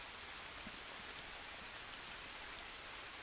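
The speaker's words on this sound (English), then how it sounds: "it's raining, so we're gonna keep having water" Rain falls steadily in the jungle survival game Green Hell, an even, dense hiss of drops that stays constant throughout, with no talking.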